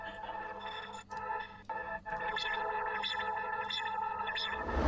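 A synth texture is mangled through the Portal VST effect plugin into a warped, distorted, echoing drone with shimmering overtones, briefly choppy near the start before it settles into a sustained wash.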